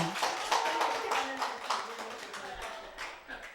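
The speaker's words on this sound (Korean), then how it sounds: "우리 박수 한번 쳐줘요." Church congregation clapping together at a tenth-anniversary celebration, a brief round of hand claps with faint voices mixed underneath.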